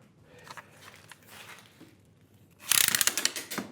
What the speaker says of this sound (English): Now I would then probably clamp this to the bench top here